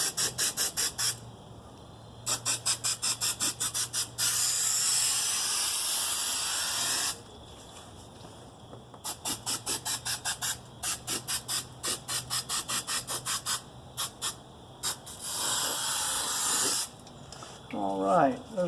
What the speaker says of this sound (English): I just use Super 77 multi-purpose adhesive. It's by 3M, and I just spray over the exact same spots